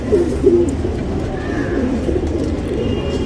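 A single-tail pigeon coos at close range, a few low throaty calls near the start over a murmuring background of other birds.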